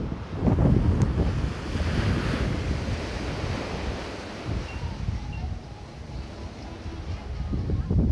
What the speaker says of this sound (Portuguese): E a maré está subindo, chegou as pedras.